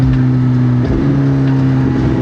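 A Suzuki motorcycle engine runs loud and close, holding a steady low drone with a few sharp pops from the exhaust scattered through the short burst.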